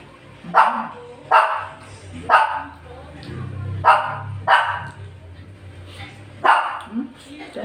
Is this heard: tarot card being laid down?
no